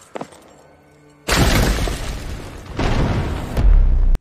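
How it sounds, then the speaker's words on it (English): Frozen arms shattering into ice and gore, a sound effect from the 2021 Mortal Kombat film: after a quiet start, a sudden loud crashing burst erupts and keeps roaring, with further heavy impacts and a final crunch. "Sub-Zero freezes his arms until they explode into a bloody mess of ice and viscera"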